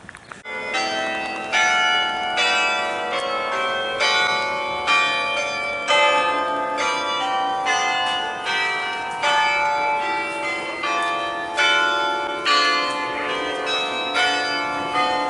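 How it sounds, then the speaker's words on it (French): The belfry carillon of Bergues, France rings out a melody of bright, overlapping bell strikes, steady and continuous, with a resonant ringing sustained between notes. "Le carillon du beffroi de"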